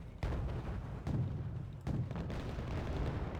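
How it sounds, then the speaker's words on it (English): Bombing runs and explosions in the strategy video game Wargame Red Dragon come as a low continuous rumble broken by several dull, muffled booms, faint and distant in a busy battle mix. "We've got bombing runs"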